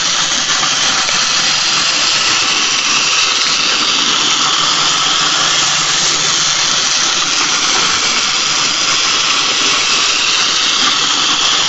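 A vintage 1950s or 60s Japanese tin toy C-156 train engine runs steadily on its track, giving a continuous close whirring, rattling drone with a hissy edge and no voices.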